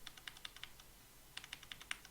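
Quick clusters of keyboard hotkey presses during a StarCraft-style Terran strategy game, two bursts of light close clicks separated by a short pause, quiet and isolated.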